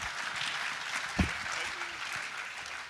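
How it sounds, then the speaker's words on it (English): Audience applause at a talk, a steady wash of clapping from a crowd with one sharper clap standing out midway. "It's really gratifying to hear you all applaud"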